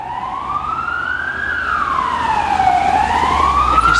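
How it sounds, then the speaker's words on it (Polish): Police sirens wail through Wrocław streets, a steady siren whose pitch slowly rises, dips and climbs again, loud and continuous over low traffic rumble, with no voices. "Jakieś syreny policyjne się we Wrocławiu zaczęły skrzykiwać, słyszymy"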